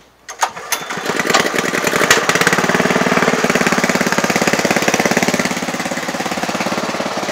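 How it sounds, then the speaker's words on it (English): A Honda GX160 gasoline engine on a homemade 12-volt DC generator is pull-started with a sharp rope yank and sputter. It catches into a loud, close, steady rapid putter that runs on evenly to the end. "So I've got to start the engine manually, I'm afraid."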